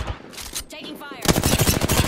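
Gunfire in a video game, a burst of rapid automatic shots that starts partway in and runs loud and dense to the end, with quieter game sounds and faint voice before it.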